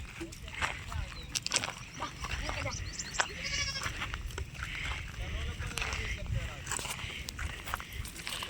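Goats bleat several times amid a busy outdoor scene, with people talking and moving nearby throughout.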